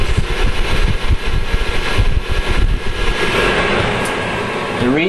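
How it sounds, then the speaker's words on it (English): Exhaust fan of a javaPRO-CRC ULTRA PID 10 lb capacity coffee roaster running steadily, a loud continuous broadband whoosh with low mechanical rumble throughout. "You can hear the exhaust."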